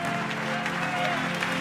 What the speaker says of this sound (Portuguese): pode dobrar os aplausos